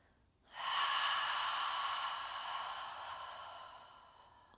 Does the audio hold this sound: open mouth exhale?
yes